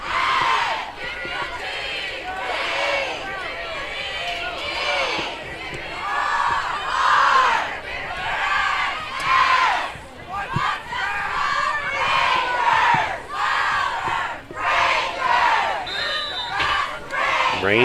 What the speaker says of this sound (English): Rangers mascot getting this crowd here hyped up